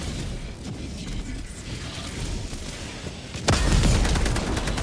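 Rocket explosion in a shooter video game, a loud, sudden booming blast that breaks in near the end over ongoing gunfire and mechanical clatter.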